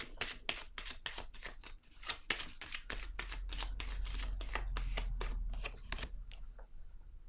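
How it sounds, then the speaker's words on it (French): Oracle cards are shuffled and drawn by hand, making quiet, rapid flicking and riffling taps in a quick, uneven rhythm that thins out toward the end. "Je vais piger une de ces cartes."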